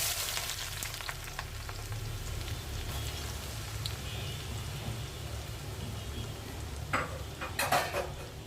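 Fish frying in a clay pan gives a steady, close sizzle and crackle that fills the whole stretch, with a few louder spits and pops near the end.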